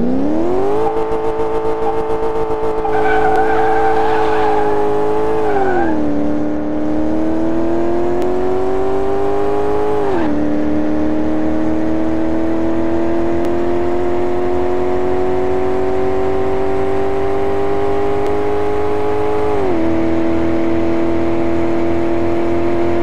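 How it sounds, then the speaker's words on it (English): Car engine in the Car Mechanic Simulator 2018 racing game, a loud steady revving drone that rises through gears with several shifts, continuous and close with no talking; no distinct tire skid stands out. "Hopefully I won't go skidding all over the track."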